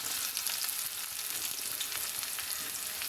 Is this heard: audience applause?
no